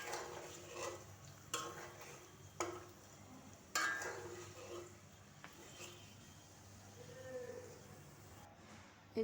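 Lid set down on a cooking pan during a potato and dried fish bhuna, a few sharp metallic clanks spaced apart over a quiet low kitchen hum.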